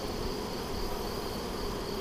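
Honey bees in an open beehive drone as a dense, continuous buzz, steady and close, with no pauses or other sounds.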